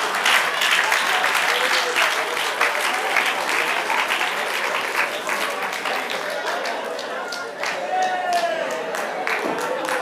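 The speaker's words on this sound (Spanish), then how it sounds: "Aplauda al Señor, hermano." Church congregation breaking into sustained loud applause, a dense continuous patter of many hands over ten seconds, with scattered voices and shouts rising near the end.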